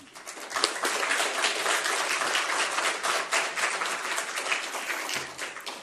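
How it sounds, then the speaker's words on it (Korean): A congregation at a Korean church Thanksgiving sermon event claps warmly to welcome Pastor Kim Nam-jun: dense, steady applause from a crowd, close and full, holding for several seconds before tapering slightly at the end. "오늘도 나오실 때 다 같이 뜨거운 박수로 환영하겠습니다"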